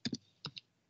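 A few crisp key clicks on a computer keyboard while entering a search term: two quick taps, a pause, then two more, close and clean against a quiet room.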